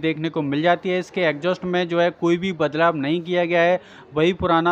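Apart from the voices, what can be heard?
No everyday noises stand out.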